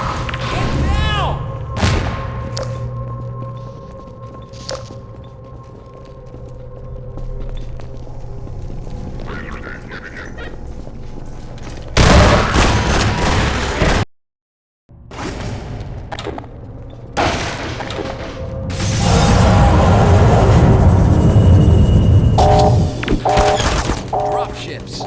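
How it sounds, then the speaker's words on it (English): Gunfire in the video game Half-Life 2, bursts of shots and heavy booms that come and go over a rumbling battle, with voices calling out in between and a short silence partway through. "Open fire, Barney! Get down!"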